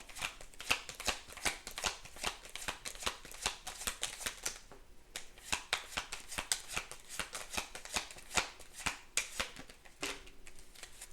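Tarot cards are shuffled close by in quick bursts of crisp riffling and flicking, a brief pause midway, then more rapid shuffling, fairly quiet with no talking.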